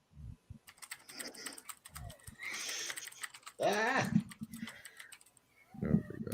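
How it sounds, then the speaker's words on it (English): Fast, frantic clicking on a computer keyboard, loud and close, runs in bursts under overlapping talk from people in the room. "You hear feverishly clicking away."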